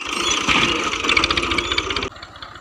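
A tractor engine idles close by during wheat sowing in a field, a steady low chugging rumble for about two seconds before cutting to a quieter tail.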